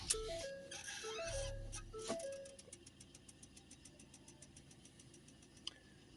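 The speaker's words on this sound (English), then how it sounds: "I'll start the engine up again." A Ford Transit Custom van engine cranks and catches, then settles into a quiet steady idle with a soft regular ticking during DPF regeneration, heard close by at low volume.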